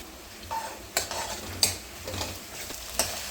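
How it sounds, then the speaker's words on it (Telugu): Onion and green chili fry in oil for a prawn fry, sizzling steadily while a spoon knocks and scrapes the pan in three or four sharp clinks, close by and with no voices. "తగినంత ఆయిల్ వేసుకొని ఉల్లిపాయ పచ్చిమిర్చి వేసుకోవాలి."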